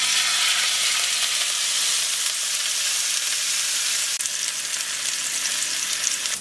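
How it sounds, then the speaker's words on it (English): Loud, continuous sizzling of ladyfish frying in a hot skillet, a dense bright crackle that holds steady throughout with no talking. "put it on the frying pan"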